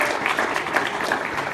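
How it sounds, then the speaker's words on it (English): Audience applause opening a Speck&Tech tech meetup, a steady wash of many hands clapping at close range throughout, with no voices standing out. "Applause."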